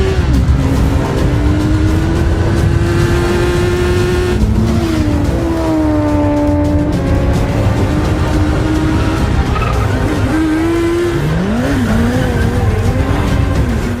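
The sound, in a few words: Kawasaki ZX-6R inline four motorcycle engine revving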